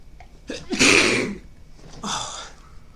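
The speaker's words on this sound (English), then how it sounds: "Sorry, sneezed." A single sharp sneeze bursts out loudly near the start after a brief inhale, followed by a softer breathy vocal sound, in a quiet indoor setting during bridge card play commentary.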